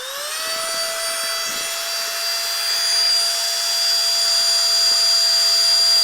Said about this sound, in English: Then we are going to get the vacuum that comes with the bag.